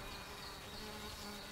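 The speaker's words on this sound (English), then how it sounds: "One particularly busy insect works the city's sea of blossoms incessantly." A bee works blossoms in a Berlin city setting, with a faint, steady insect buzz droning continuously and close against quiet surroundings.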